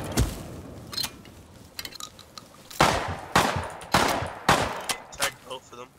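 Shotgun blasts from a first-person shooter game firing at point blank, a rapid scatter of sharp cracks and clanks in uneven bursts, with voices talking over the action.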